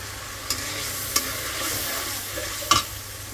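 Food frying in a pan with a soft continuous sizzle, broken by a few sharp scrapes and clicks of a spoon stirring against the metal. Close and fairly quiet, with no talking.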